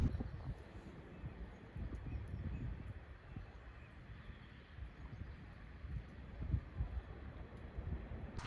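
Steady wind on a causeway rumbles against the microphone with low, muffled buffeting and occasional stronger gusts, no voices.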